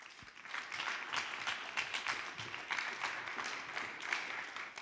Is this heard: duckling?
no